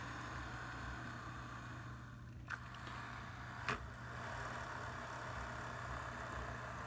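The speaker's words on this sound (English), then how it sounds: "Yeah, just glide it along now. And it's cleaning the wheels." A model train runs over a Woodland Scenics Tidy Track wheel cleaner, giving a steady, even whirring hum that stays level throughout, broken by two brief sharp clicks partway through.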